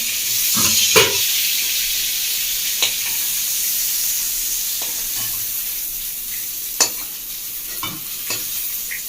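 Prawn malaikari cooking in coconut milk in a pan, with a steady loud sizzle and hiss throughout, broken by a few sharp crackling pops and stirring clinks.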